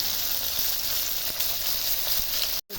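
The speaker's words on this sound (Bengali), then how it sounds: "সব আমি একসাথে নাড়িয়ে নিচ্ছি।" Crispy chilli baby corn with salt and chopped green chillies stir-fried in a pan, a steady close sizzle with soft scraping stirs, cutting off abruptly near the end.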